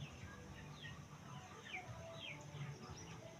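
A mother hen and her newly hatched chicks make faint clucks and thin peeping calls over a steady hiss of background noise, soft and somewhat distant.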